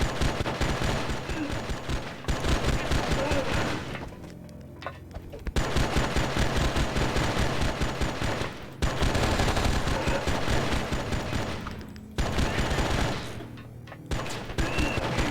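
Rapid bursts of gunfire rattle through a firefight in the Oni video game, dense machine-gun volleys broken by brief pauses, loud and close.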